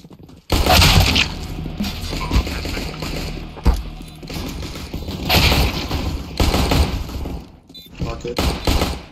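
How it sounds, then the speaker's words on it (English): A flashbang grenade detonates in a CS:GO match, a loud bright burst amid dense, continuous gameplay noise with sharp impacts and gunfire-like crackles throughout, and talk over the top. "Flashbang out."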